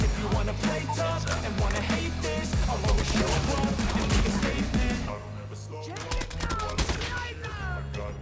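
Rapid bursts of KN-44 assault rifle fire from a Call of Duty: Mobile match, steady and loud through most of the stretch at mid-to-long range, over a busy game soundtrack with other effects.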